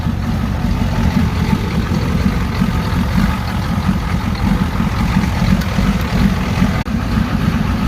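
A Ford 7.3 diesel tow truck engine idles roughly and loudly up close, a steady low rumble with an uneven, lumpy pulse running through the whole stretch.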